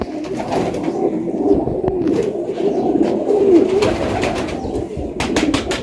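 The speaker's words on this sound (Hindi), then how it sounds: "बहुत फिट कबूतर है" Fit racing pigeons in a Rawalpindi keeper's loft coo in low, repeated, throaty rolls close to the microphone, with faint rustling and a few clicks in the background.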